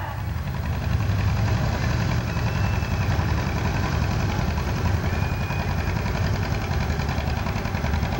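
A 1950 John Deere A tractor engine chugs steadily throughout an antique tractor pull at a county fair, a loud low rumble with constant rhythmic knocking and no pauses.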